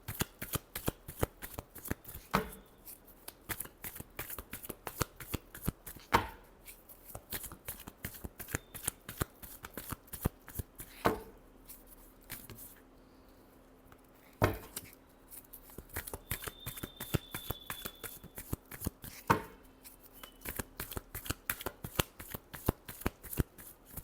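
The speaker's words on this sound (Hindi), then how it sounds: "last shuffle" Tarot cards being shuffled by hand, a dense run of rapid riffling snaps and flicks in repeated bursts with short pauses between, close and fairly quiet, no voices.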